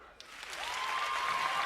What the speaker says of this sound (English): I'm gonna need a round of applause for people who go to church.